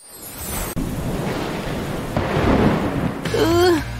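Heavy rain pours down in a steady broadband wash lasting the whole stretch, swelling slightly midway, with a brief vocal-like tonal sound rising near the end.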